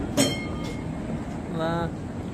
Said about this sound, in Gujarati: આવી લોકલ ટ્રેન તો ક્યારેય નથી જોયો મસ્ત છે